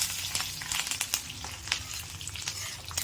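Curry leaves dropped into hot oil with urad dal sizzle and crackle steadily while being sautéed for idli upma, a close, continuous frying hiss with sharp pops and no talking.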